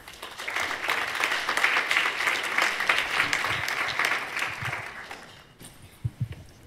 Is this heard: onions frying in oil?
no